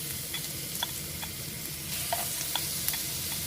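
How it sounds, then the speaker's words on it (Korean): Carrots stir-fry in oil in a pan, giving a steady, close sizzle with light scraping and stirring clicks recurring every half second or so, with no talking. "그러면 요 기름으로 이제 당근 볶아주고"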